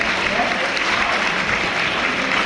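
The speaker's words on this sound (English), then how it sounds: "Let's give another big round of applause for our JV, Rosary JV women." Sustained applause from a banquet audience for the Rosary Academy JV women's track and field team, a dense, steady wash of clapping filling the hall with no break.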